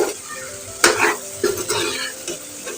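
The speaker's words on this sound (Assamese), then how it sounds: "যেনে মই ধুনীয়াকৈ ভাজি লৈছোঁ" Food sizzles in a pan while a spatula stirs it, with a few sharp scraping strokes over a continuous close frying hiss.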